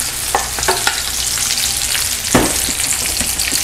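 Baby red potatoes drop into a hot pan of butter and oil with a loud, close, steady sizzle, broken by a few sharp clinks and scrapes of tossing.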